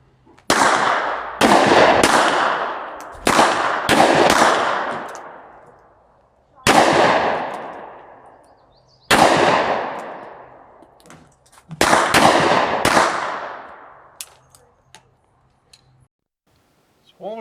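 Pistol shots at an outdoor gun range beside a farmer's field, loud and close, fired in clusters of two or three with long ringing decays and pauses between volleys.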